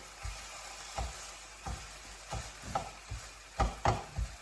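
Egg scrambled with a spatula in a frying pan while preparing breakfast: irregular scraping and tapping strokes over a light sizzle, close and moderately loud, with no talking.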